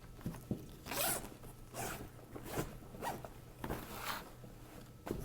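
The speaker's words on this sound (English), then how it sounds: "If I can find my zipper here." A bag pouch zipper is drawn open in several short, raspy pulls, close up, with rustling of fabric in between and no one talking.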